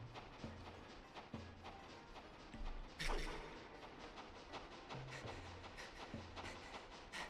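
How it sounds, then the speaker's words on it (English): Creature crawling in The Legend of Zelda: Skyward Sword HD, a faint rhythmic chugging like a train's clickety-clack with repeated low thumps over soft game ambience. "He sounds kind of like a train when he's crawling like that."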